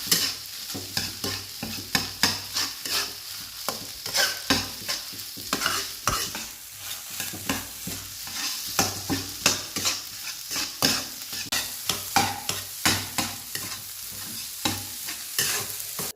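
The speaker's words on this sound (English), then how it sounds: "Stir until smooth." Fried rice sizzles in a pan with salt, mushroom stock and sweet soy sauce while a utensil stirs and scrapes it in quick, repeated strokes, a steady frying hiss under rhythmic close scraping.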